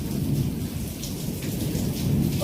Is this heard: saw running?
no